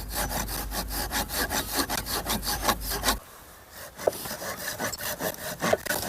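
A hand saw cuts through a log outdoors while a campfire is being prepared, rasping in steady rhythmic strokes for about three seconds, pausing briefly, then resuming with a few more scratchy strokes.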